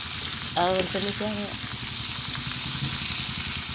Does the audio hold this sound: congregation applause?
no